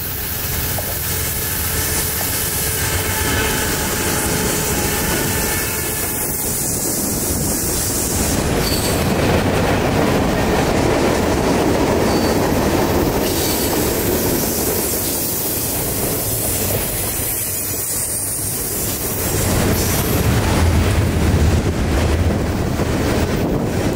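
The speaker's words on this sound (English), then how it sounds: "we'd set up across the tracks at Tunnel 24 for one last southbound of the morning, NS215" Norfolk Southern southbound freight train NS215 rolls past at Tunnel 24 on the CNO&TP line: a loud, continuous roar of railcars with wheel squeal, rhythmic clickety-clack and wind buffeting the microphone, sustained close by for the whole stretch.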